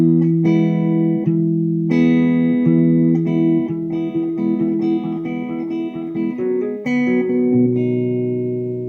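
Fingerpicked acoustic guitar playing a song, a bass note alternating with higher strings in a steady rolling pattern, sustained chords ringing close and clear with no voices.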